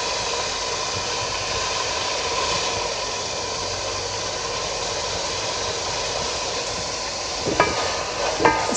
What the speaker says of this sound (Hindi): इसको अच्छी तरह सौते करेंगे।